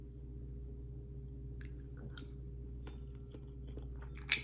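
Close, soft chewing and biting of a melted snack of strawberries, granola, mini chocolate chips, honey, hemp, flax and chia seeds, with faint squishy crunches over a low steady background hum.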